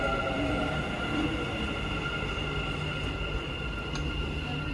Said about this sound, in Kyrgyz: Мына көчө метро келип калды